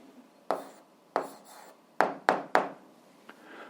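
An algebra answer being written by hand, heard as several distinct scratchy strokes and taps spaced irregularly, close and fairly quiet in a silent room.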